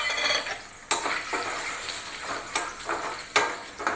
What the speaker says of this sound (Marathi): आणि ही अंडी आहेत ते थोडेसे परतून घ्यायचे आपण याच्यामध्ये